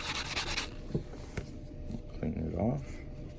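A nail buffer sands the cut edge of a coin ring with short, dry rubbing strokes, close by, while a voice talks over the scraping.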